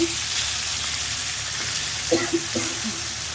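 Rohu fish frying in a pan, a steady close sizzling hiss throughout, with a few brief knocks of stirring near the end.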